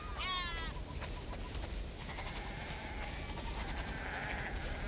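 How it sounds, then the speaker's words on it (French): Several sheep bleat in a noisy scene from The Last of Us Part II, a clear wavering bleat up front followed by softer overlapping calls over a steady background bed. "Oh, t'as vu un peu tous ces moutons?"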